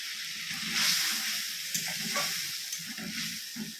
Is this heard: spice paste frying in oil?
yes